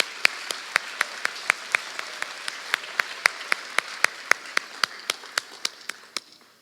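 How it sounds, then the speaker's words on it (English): Audience at the 2019 Jasper Strassenfest pageant applauds the judges, though the sound is mostly a single pair of hands clapping in a steady, evenly spaced rhythm over a soft background patter that fades at the end. "Let's give our judges one big round of applause for making this tough decision this evening."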